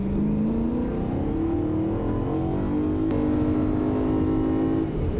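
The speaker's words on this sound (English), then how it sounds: "the V8 made music that ranged from a gentle rumble at idle to a screaming wail at redline" A BMW S65 V8 engine holds a steady, loud drone with a tone that climbs slowly, running continuously for about five seconds with no voices.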